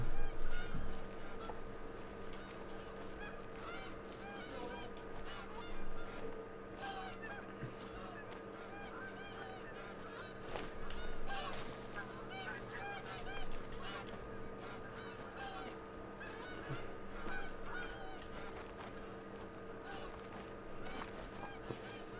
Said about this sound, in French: Ah non, les bernéchats du Canada